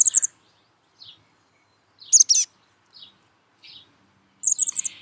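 High, thin chirps and buzzy calls from a chestnut-backed chickadee at a backyard nest box, several short bursts spaced across the stretch with quiet gaps between, fairly close and clear against silence.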